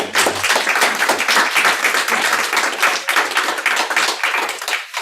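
An audience at a sustainability short-film premiere applauds, dense sustained clapping filling the room from start to finish, loud and close, with no talk over it.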